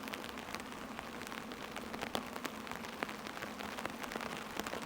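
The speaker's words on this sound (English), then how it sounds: "Listening to the nature, listening to the rain" Steady rain patters on the fabric of a car tent during a rainstorm, a dense, even hiss broken by sharper close drops striking the surface throughout.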